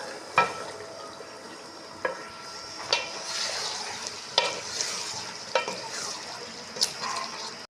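Boiled spinach being stirred into cooked potatoes for aloo palak: regular scraping strokes about every second over a faint, even sizzle, close up with no voices.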